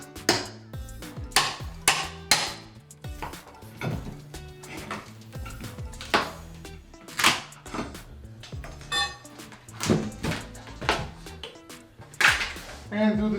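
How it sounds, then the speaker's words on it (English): Close, uneven metallic knocks and clanks as a hammer drives a flat bar behind trim to pry it off a wall before vinyl plank flooring goes in, with scraping between the blows and some background voice. "use the hammer to drive"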